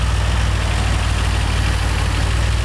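A 1981 DeLorean's 2.8 V6 Volvo engine with Rolls-Royce performance parts idles steadily, a close, even low rumble with a regular throbbing pulse and no talk.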